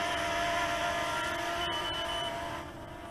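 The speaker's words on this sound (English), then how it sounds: "okay, three beeps are heard" A BWINE F7 GB2 drone emits a steady, high-pitched electronic warning tone for its low-voltage alert, continuous rather than distinct beeps, heard over a constant droning hum that fades slightly at the end.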